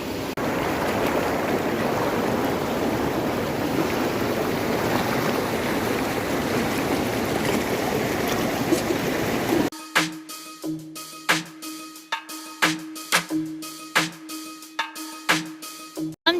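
Mandakini river rushing along the riverbank, a loud steady broadband flow for about ten seconds, then cut off and replaced by sparse quiet clicks and brief tones.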